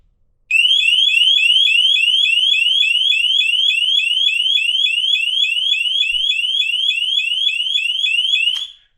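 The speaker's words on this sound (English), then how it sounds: "We're going to start off with the actual Pebblebee Halo sound." Pebblebee Halo tracker alarm: a piercing, rapidly repeating high-pitched electronic chirp sounding continuously for about eight seconds, loud and close, stopping abruptly with a click.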